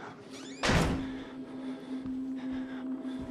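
A door shuts in the horror video game Outlast with one sharp, heavy thunk, followed by a low, steady ambient hum and faint scattered knocks.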